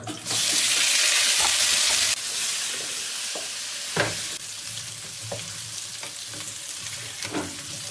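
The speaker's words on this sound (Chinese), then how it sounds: "先把土豆炒一下" Chunks of potato stir-fried in a pan hit with a loud burst of sizzling, then settle into steady frying broken by repeated scraping stirs of the spatula, close and alone.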